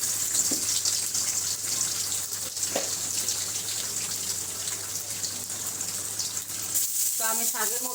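Oil sizzling steadily in a large kadai before greens are added, a continuous hissing crackle that stays loud throughout, briefly joined near the end by a voice.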